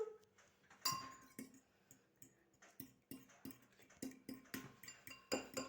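A fork beats eggs in a bowl for gingerbread dough, giving a steady series of light, crisp clinks against the side with a few louder taps, close and clear in a quiet kitchen.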